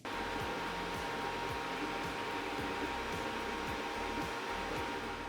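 Cooling fans on a Tycoon Slim 3D printer, covering the power-supply and hot-end ventilation, give a steady, even whir close to the mic with a faint repeating mechanical ticking underneath, and no one speaks.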